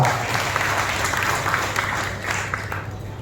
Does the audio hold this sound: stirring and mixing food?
no